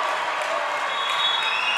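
A crowd at a Union college volleyball match cheers and applauds, a steady wash of clapping and crowd noise that holds at a constant level throughout, loud and close.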